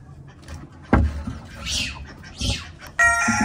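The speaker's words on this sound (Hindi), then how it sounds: "और फिर कबीर सिंह की मुर्गी को अंडों समेत ऊपर ट्रांसफर करते हैं।" A hen clucks and murmurs nearby in a few short calls while being moved with her eggs, with thumps and rustling around it and a louder squawk at the end.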